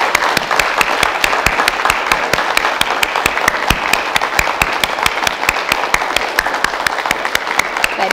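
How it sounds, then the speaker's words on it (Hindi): Loud, dense applause fills an International Yoga Day 2022 celebration, with a crowd clapping steadily and evenly throughout, no voices over it. "सबसे पहले ज़ोरदार तालियों के साथ हम स्टार्ट करेंगे"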